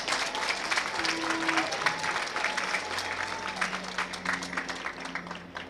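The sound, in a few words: audience applauding the Chancellor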